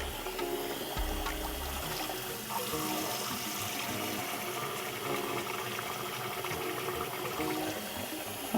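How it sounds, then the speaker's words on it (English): Rice being washed under running water from a tap, a steady hiss of flowing water into a bowl or sink, close and continuous with faint stirring and splashing. "You need to wash it as many times as possible. I personally do this until the water turns white."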